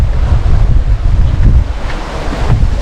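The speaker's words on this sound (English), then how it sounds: "And the wind started to pick up, and I'm gonna try my best to block the wind" Strong wind by Traunsee lake in Gmunden, Austria buffets the microphone with a loud, continuous low roar and gusty rumble, and no one speaks.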